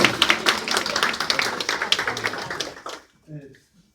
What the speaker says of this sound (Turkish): Bir alkış alın Sadık Bey.